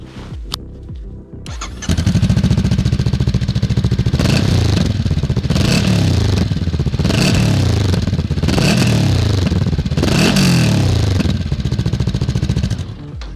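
A Honda NX500 motorcycle engine starts and revs repeatedly, rising and falling in several loud bursts over a steady idle, close by with no talking.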